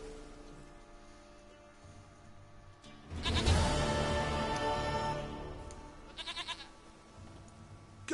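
Goat bleating in The Witcher 3, a loud, wavering bleat swelling for a couple of seconds after a quiet start, then a few shorter quavering calls trailing off over soft background ambience.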